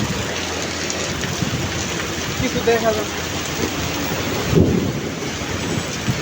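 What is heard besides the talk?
heavy rain with thunder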